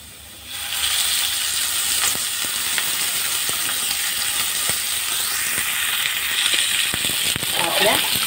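Ginger frying in hot oil for a clam masala, a steady broad sizzle that starts after a brief quiet moment and holds evenly, with occasional small crackles and pops near the pan.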